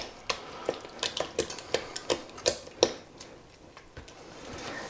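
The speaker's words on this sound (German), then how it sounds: "Und dann heißt es Öl, Eier und Zucchini schön verrühren." Oil, eggs and grated zucchini being mixed for a chocolate cake batter in a bowl, heard as a steady series of sharp utensil taps and scrapes against the bowl that ease off near the end, close and moderately quiet, with no talking.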